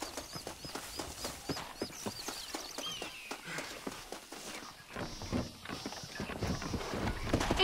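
Horses pulling a stagecoach in Red Dead Redemption clop along in a steady hoof rhythm, faint and mid-distance, with wheel and harness rattle and occasional bird calls in the background.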